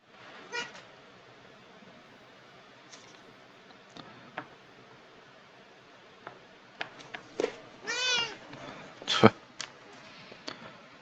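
A cat gives a faint meow near the end of a mostly quiet stretch, set among scattered sharp clicks and brief tones.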